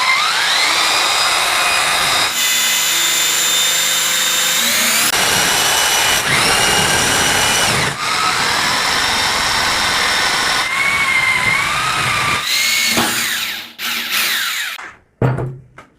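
A rotary hammer drill set to drill mode bores into plywood with a loud, continuous high-pitched motor whine that shifts in pitch as the load changes, then sputters and cuts off near the end; no speech.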